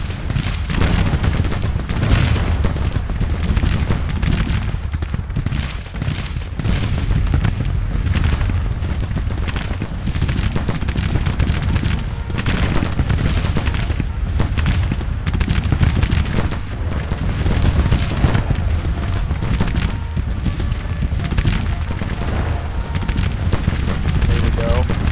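Artillery rumbles without pause across a Grand Tactician: The Civil War battle, loud booms and volleys of gunfire blending into a dense, continuous roar of cannon and musketry.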